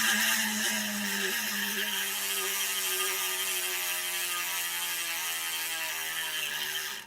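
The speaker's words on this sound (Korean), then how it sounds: "아무래도 라치 소리 한번 들어봐야겠죠" The ratchet of an Elite Drive Helix carbon-spoke bicycle wheel hub freewheels in a continuous, close, high-pitched buzzing whir that holds steady and then slowly winds down as the wheel coasts.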